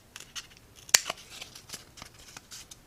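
Scissors snip through material around a marked pen line while an upcycled piggy bank is made, a series of small crisp cuts with one sharper clip, close and quiet with no talking.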